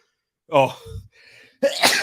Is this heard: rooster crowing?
no